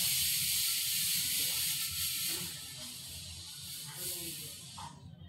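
Mutton cooking in a covered pot gives off a steady, close hiss of steam that fades slightly toward the end, with a soft low rumble underneath.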